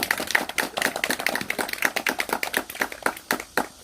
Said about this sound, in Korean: 여러분 큰 박수 한번 크게 보내주시기 바랍니다